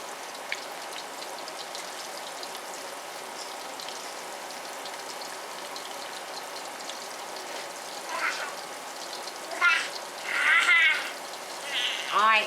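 Chicken pieces frying in oil on a NuWave induction cooktop, a steady crackling sizzle throughout, with a few louder spitting bursts toward the end.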